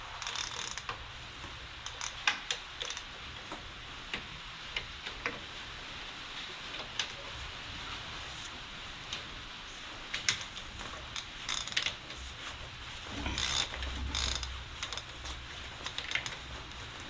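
A ratchet wrench clicks rapidly and steadily while backing off cylinder bolts half a turn on a Minneapolis Moline 335 tractor engine, close up with repeated bursts of ratcheting and no talking.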